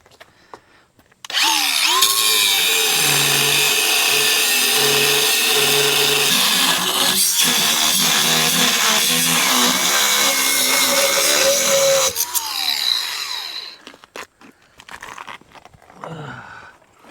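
Power cutting wheel slicing through heavy-duty rebar, a loud harsh grinding whine that starts abruptly, holds with shifting pitch for about ten seconds, then winds down with clatter afterward.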